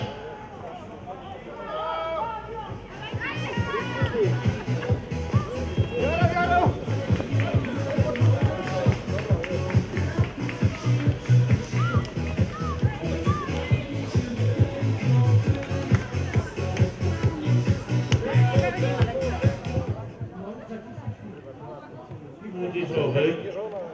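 A crowd of runners sets off at the start of a 5 and 10 km cross-country race, with a dense, steady patter of footsteps for about seventeen seconds, then thinning out, and crowd chatter running throughout.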